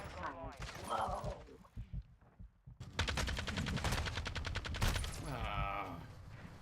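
Gunfire in a video game shooter, rapid machine-gun bursts heard fairly quietly, with people talking over and between the shots.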